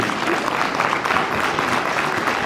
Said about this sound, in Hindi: मैं चाहूंगा कि सभी तालियों से इनका धन्यवाद करें।